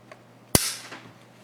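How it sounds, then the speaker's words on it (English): A single sharp crack of plastic rings out once as a screw is tightened, close and abrupt, with a brief bright tail fading over a faint steady hum. "Sounds like something cracked."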